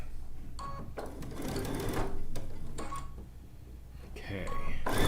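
A Baby Lock sewing machine pieces zig-zag quilt diamonds in bursts of rapid, close stitching, separated by pauses and short clicks, with a few tonal beeps near the end.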